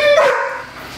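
A dog barks excitedly at a visitor arriving at the door, one loud close bark trailing into a short whine.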